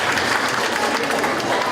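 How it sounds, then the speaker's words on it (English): Loud audience applause at a youth festival quiz, a dense and continuous burst of many people clapping close by, brief and unbroken. "Please give him a round of applause."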